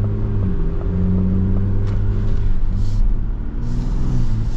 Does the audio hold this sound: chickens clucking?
no